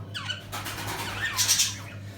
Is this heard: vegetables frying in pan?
no